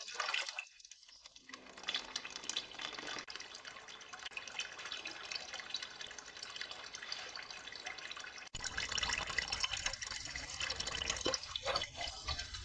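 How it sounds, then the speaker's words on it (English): Water gushes out of a clogged car heater core during flushing, a steady splashing rush that drops briefly, then surges louder and rougher for the last few seconds, with no voices. "the water keeps coming out until the water starts to come out completely clear"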